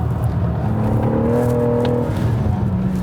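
A small BMW city car's engine pulls hard under acceleration, a steady, close drone with rising harmonic tones midway that settle back into a constant hum, no talking over it.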